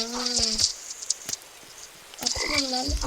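Frog croaking in the Roblox game 99 Nights in the Forest, Halloween update: a few loud, close, tonal croaks in two bursts separated by a brief quiet gap, with no talk over them.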